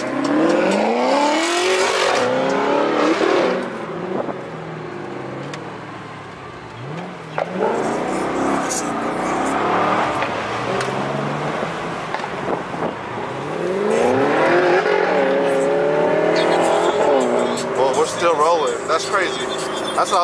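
An Audi R8 with no bumper revving loudly, its engine climbing and dropping in repeated surges close by, with talk heard between the revs.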